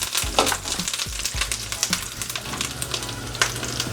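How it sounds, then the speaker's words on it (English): Fresh thyme hits melted butter in a pan for garlic butter salmon and sizzles steadily and loudly, with a few soft utensil taps and clinks, close up and without speech. "our butter's melted. And we're just going to go in with some thyme."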